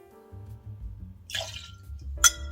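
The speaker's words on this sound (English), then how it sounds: "So we're going to go ahead and pour out 2 ounces right into our mixing glass." Two ounces of rye whiskey are poured into a mixing glass for a Manhattan cocktail, heard as a short liquid splash followed by a sharp glassy tap, close and otherwise quiet.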